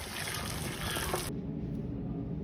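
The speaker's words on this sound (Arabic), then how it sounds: "بنسمي بالله وبننزل عليهم المي السخنه." Hot water poured onto fried lamb pieces in a pot: a steady hissing, sizzling pour that is loud at first, then softer and duller as the liquid settles, continuous throughout.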